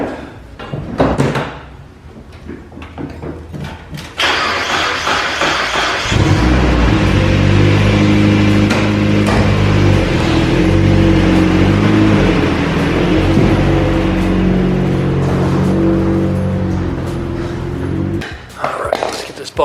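A Mazda Miata in a garage: a door clunks and rattles, then the engine starts and settles into a loud, steady idle and low rumble for over ten seconds before the car is driven out and the sound fades.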